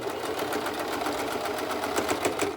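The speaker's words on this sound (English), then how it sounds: "And we're just gonna keep sewing." A sewing machine stitches fabric for a no-fog face mask, its rapid needle strokes forming a steady, close mechanical chatter that runs continuously without pause.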